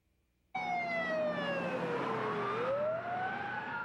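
Ambulance siren sounding loudly while the vehicle drives a patient to the hospital, a wailing tone that starts abruptly, sweeps steadily down and then rises again, close and continuous.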